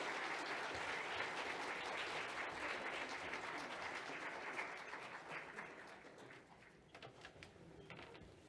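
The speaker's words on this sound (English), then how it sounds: "So let's give them another big round of applause as they make their way down." An audience at a national gathering on unmarked burials in Winnipeg applauds in a sustained round of clapping that gradually thins and fades toward the end.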